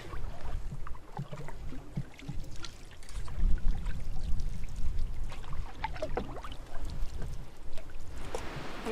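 A canoe is paddled across a lake in the Canadian wilderness. Paddle strokes swish and water trickles and drips close by in an uneven rhythm under a low rumble, with no voices.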